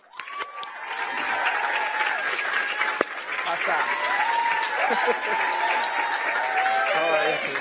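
Audience applause and cheering greeting Ricky Martin as he comes onstage at a PaleyFest TV preview event, sustained and loud throughout, with whoops and voices calling out over the clapping.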